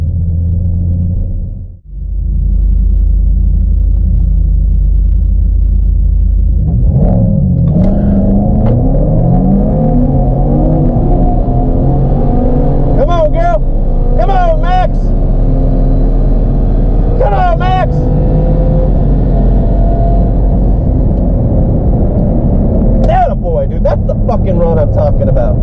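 A turbocharged 2014 Jeep SRT8 with a built motor and 82mm turbo races from a roll, its engine droning loud and steady as it climbs through repeated revving gear pulls, with people talking over it.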